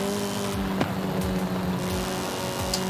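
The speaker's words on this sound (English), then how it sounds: "it's a great engine. Great engine noise" A Nissan Z engine in the racing game Forza Horizon 5 hums at a steady, sustained drone with slight shifts in pitch, moderately loud and fairly constant throughout.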